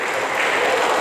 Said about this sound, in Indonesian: Boleh kita tepuk tangan untuk Tuhan kita Yesus Kristus.